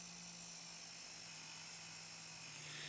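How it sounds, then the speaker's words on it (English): A Drill Doctor sharpener's grinding wheel works the flat of a spade bit, giving a steady, high, whining hum that holds evenly throughout, faint and with no voices. "Push the spade bit holder forward until the flat of the bit contacts the wheel and starts grinding."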